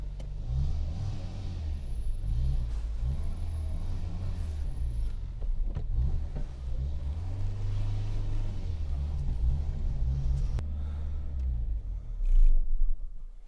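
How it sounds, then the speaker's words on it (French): An old car engine idles on the choke, a low, rough, steady rumble with slight rhythmic surges and a brief louder rev near the end, close and continuous without speech. "Je suis un peu toujours obligé de rouler au starter,"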